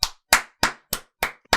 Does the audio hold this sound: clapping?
yes